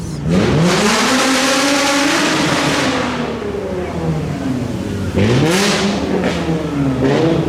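A loud Nissan 350Z with a single straight 3-inch exhaust pipe revs hard at a supercar show, rising and falling in pitch, drops to a steady idle, then revs sharply again near the end.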